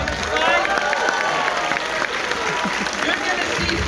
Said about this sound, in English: Let's have a round of applause for Sai.